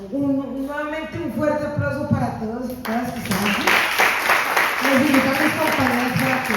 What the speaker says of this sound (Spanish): Nuevamente un fuerte aplauso para todos y todas que están aquí.